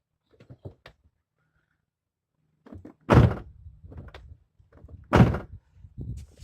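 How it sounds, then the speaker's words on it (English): A Corvette door with aftermarket front fender flares is opened and shut, giving two heavy thunks a couple of seconds apart, with soft latch and handling clicks around them in a quiet setting. "So I want you to take notice when I open the door."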